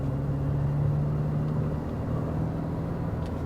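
Diesel Hyundai Creta E, about 86,000 km, speeding up on a highway, heard from inside the cabin as a loud, steady engine drone with a rising hum and constant road noise.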